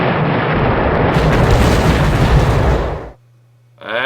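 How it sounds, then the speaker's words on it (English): Artillery barrage explosions in the Battle Academy war game, a loud continuous roar of overlapping blasts for about three seconds, then a sudden drop to near silence before a new sound starts. "the artillery barrage is doing some damage here"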